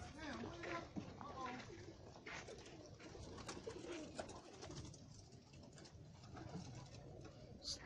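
Rolling pigeons coo in a backyard loft, soft throaty calls recurring under steady nearby talk and some splashing.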